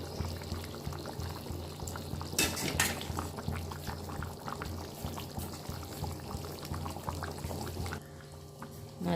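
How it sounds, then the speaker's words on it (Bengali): Bhetki fish pieces go one by one into a bubbling potato and eggplant curry, a steady boil with brief splashy pours and a louder burst partway through, no talking. "তো এখন আমি এর মধ্যে মাছগুলো একে একে দিয়ে দেবো।"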